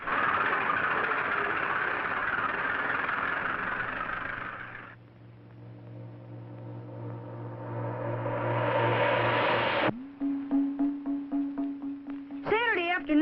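A tractor engine, driven by a lumberjack in timber country along the Mississippi in 1951, rumbles steadily, fades, then revs up louder before cutting off; afterwards a motor idles with a low hum under several rising whines.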